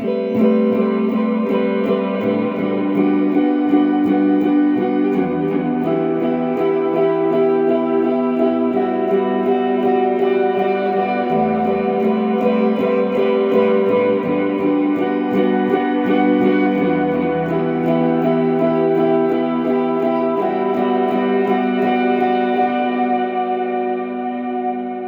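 Electric guitar played through a large hall reverb and delay, shoegaze style, with washed-out sustained chords and long echo trails forming a dense, steady, loud wall of sound, no talking.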